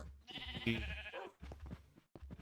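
Sheep bleat on an animal farm in a video game, several loud close calls in quick succession with brief gaps, one long bleat followed by shorter ones.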